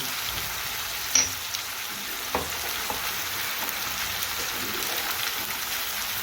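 Ground spices such as coriander-cumin, garam masala, red chilli, turmeric and asafoetida fry and get stirred into a pav bhaji mixture, giving a steady moderate sizzle with occasional spatula scrapes and clicks.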